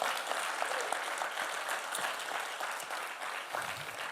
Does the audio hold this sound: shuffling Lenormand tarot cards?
no